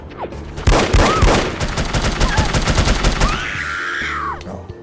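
Dense automatic gunfire in The Operative: No One Lives Forever, loud overlapping bursts of shots for several seconds before tapering off, with a whooshing game effect near the end.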